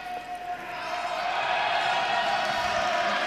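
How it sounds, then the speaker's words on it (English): A crowd at a women's Olympic qualification curling match reacts to a shot, cheering and applause swelling steadily beneath a commentator's voice. "the crowd reaction tells you that is a nice shot from the Czech Republic"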